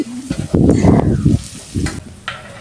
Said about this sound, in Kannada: ನಾನೀಗ ಇಲ್ಲಿ ಹಚ್ಚಿಟ್ಕೊಂಡಿರೋ ಅಂಥ ಟೊಮೊಟೊನ ಹಾಕೊತಾ ಇದ್ದೀನಿ ಇದನ್ನು ಸಹ ಸ್ವಲ್ಪ ಸಾಫ್ಟ್ ಆಗೋ ತಕ್ಕ ಚೆನ್ನಾಗಿ ಇದನ್ನು ಫ್ರೈ ಮಾಡ್ಕೊಳ್ಳಿ